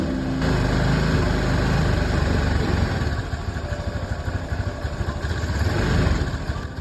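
A Honda Beat scooter engine, rebuilt after running out of oil, runs steadily and loudly, its buzzing putter holding even for several seconds with slight revving toward the end.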